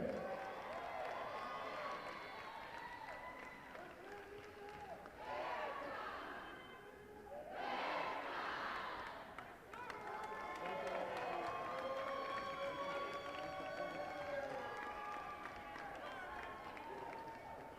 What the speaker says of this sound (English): how about one more large round of applause for all of our SAC Championship Award winners